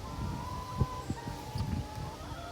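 Hens clucking on a small cooperative farm, short low bursts from several birds scattered over a steady hum, fairly faint and with no talk.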